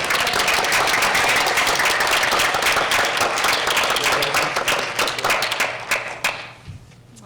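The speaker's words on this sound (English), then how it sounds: "So round of applause." Loud, dense audience applause fills a Board of Education meeting room, holding steady for several seconds before thinning out and fading at the end.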